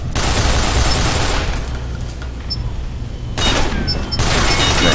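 Artillery shelling strikes a base in Nuclear Dawn as a dense, loud, continuous roar of blasts, easing in the middle and then returning in two heavy surges near the end.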